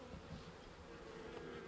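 Honey bees buzz steadily at a hive with moderate activity, a close, continuous insect drone that holds at an even level throughout with no voices.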